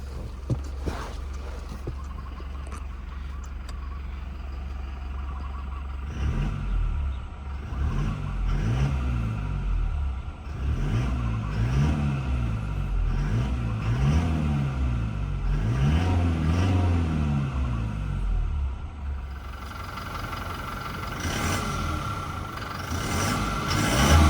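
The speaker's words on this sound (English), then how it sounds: "Let's give her a few revs and check how she sounds." A 2021 Toyota Hilux Conquest 4x2 automatic sits still while its engine is revved, rising into several surging, throaty swells over a steady idle hum before settling back down, close up, with no talking.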